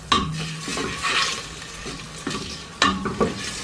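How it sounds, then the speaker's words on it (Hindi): Onions sizzling in hot oil in a pan for an Eid dish, with a steady frying hiss and several loud scrapes and clanks as a utensil stirs them close by. "प्याज डाल देंगे"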